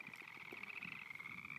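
Frogs croak in a rapid, pulsing chorus beside water warming after a late spring snowmelt, faint and a little distant, with no talking.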